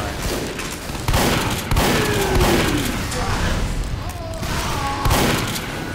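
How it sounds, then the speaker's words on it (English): Gunfire in the Team Fortress 2 video game, several sharp bursts and booming shots spread across a few seconds, loud and close, with a player's voice talking over the action. "I think I just shot the dead body."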